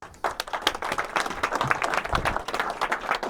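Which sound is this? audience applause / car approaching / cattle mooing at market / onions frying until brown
audience applause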